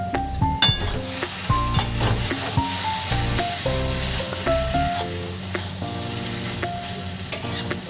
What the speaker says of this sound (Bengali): এবার দেবো আমি গুঁড়ো গরম মশলা, দিয়ে আবারও ভালো করে নাড়াচাড়া করে নেব।